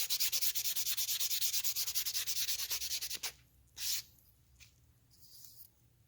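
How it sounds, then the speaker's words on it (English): A motorized bicycle engine piston rubbed with fine 1800 grit nail sandpaper, a steady, even back-and-forth scratching that runs for about three seconds and then stops, followed by a couple of faint brushing sounds, close and quiet. "this is an 1800 grit sandpaper"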